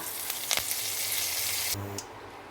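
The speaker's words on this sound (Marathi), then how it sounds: "मसाले त्यामध्ये परतले गेले पाहिजे दोन स्लीट केलेल्या हिरव्या मिरच्या कढीपत्ता" Spices for masala rice fry in hot oil with slit green chillies and curry leaves, a loud steady sizzle with a few sharp crackles and a brief clatter near the end.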